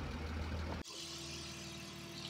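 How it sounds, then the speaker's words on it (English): A BMW E36 with an S52 engine, fresh from a clutch install, idles with a dense, low rumble. The tone shifts abruptly partway through to a smoother idle with a higher hiss, steady and close, with no talking. "She's running again."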